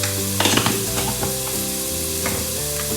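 Carrots sauté with Kashmiri chili in a pan for Spanish-style chicken paella, a loud, continuous sizzle close up, with a few soft stirring scrapes near the start and no voices.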